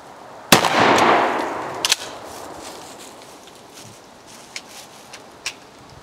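A single loud, close blast from a 12 gauge Armscor Rock Island Armory M5 matte nickel fighting shotgun, followed by a decaying outdoor echo and a few faint clicks from the range.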